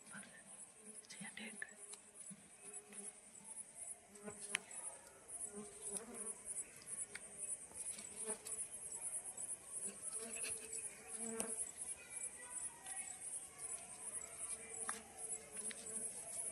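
Small honeybees swarm at a wild hive in the hills during a honey harvest. Their faint, continuous buzzing hums throughout, with people speaking quietly in the background.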